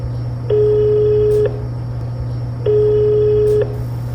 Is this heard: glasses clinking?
no